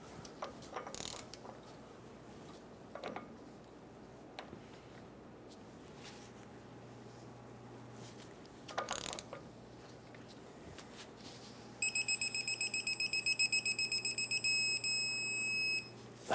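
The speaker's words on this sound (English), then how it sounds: "my torque wrench on the axle nut" A torque wrench on the front axle nut of a 2003-2009 Dodge Ram 2500 5.7L V8 makes sparse, quiet ratchet clicks, then a steady electronic beeping tone near the end.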